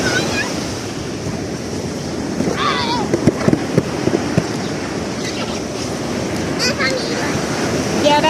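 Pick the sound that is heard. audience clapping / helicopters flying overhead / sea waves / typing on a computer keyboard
sea waves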